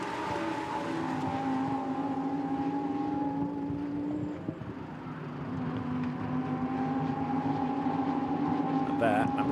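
Lamborghini Super Trofeo race cars at the Nürburgring, their sustained engine drone steady and continuous through a corner, holding a long tone under a commentator's talk.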